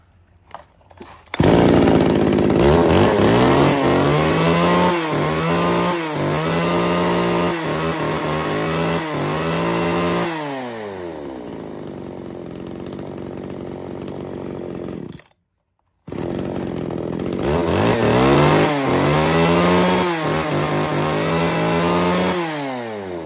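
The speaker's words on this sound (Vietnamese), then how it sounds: "là một chiếc máy cưa xích mini nhỏ gọn" A compact mini chainsaw, a used Japanese unit, starts up and runs loud and close, its two-stroke engine revving up and dropping back in repeated bursts, then cutting out briefly before firing again and revving once more.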